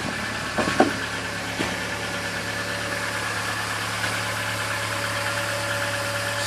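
A Ford Focus Mk1 1.4 engine idles steadily with a low, even hum and faint vibration, a couple of soft clicks near the start, no voices.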